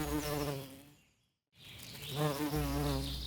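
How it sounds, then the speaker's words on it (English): A honeybee buzzes close by in a droning, wavering hum, fading out to near silence for a moment before returning loud and steady. "honeybee"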